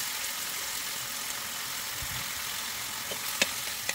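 About 800 grams of seasoned chicken pieces fry in a pan, giving a steady, even sizzle close by with a few small pops and taps near the end, no voices.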